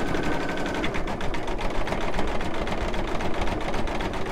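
A computerized embroidery machine runs steadily while stitching a sun design, making a close, continuous rapid mechanical chatter with a fast needle rhythm and no pauses or talk.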